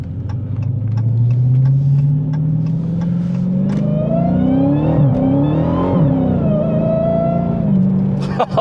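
The supercharged V8 of a 2019 Dodge Challenger Hellcat revs up and accelerates, loud rising engine roar heard from inside the car, climbing in pitch, then easing and surging again with a whine on top.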